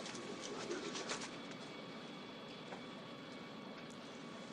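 A passenger train runs on its rails with a steady, dense rumble and faint clatter, constant throughout and without talking.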